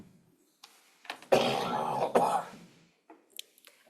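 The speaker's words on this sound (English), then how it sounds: "He's a lot of coughing over here." At a school district budget forum, someone coughs and clears their throat in a short, harsh burst of two or three rasping coughs, close and fairly loud, with a few faint shuffles in a quiet room.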